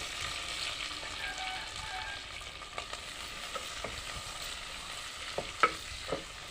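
Sliced onions and chilies crackle in hot oil in a pan while a spoon stirs them, a steady close sizzle broken by a few soft scraping taps toward the end, with no talking.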